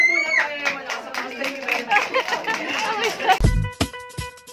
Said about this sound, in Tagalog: Palakpak muna tayo.